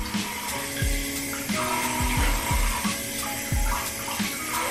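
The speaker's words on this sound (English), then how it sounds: "So you wanna rinse it." Tap water runs steadily while a beard is rinsed, a close, continuous splashing wash with irregular dips and surges as hands move through the stream, no talking.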